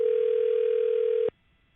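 A phone call ringing out while waiting for someone to pick up: one steady electronic ring tone holds for just over a second, then cuts off abruptly into near silence.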